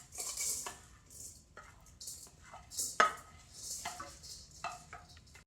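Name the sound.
cooled cooked millet put into a bowl for mixing with yeast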